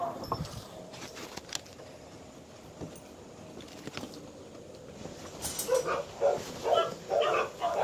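A pet dog barks and yips outdoors in a yard, faint at first over background noise, then a louder cluster of barks toward the end.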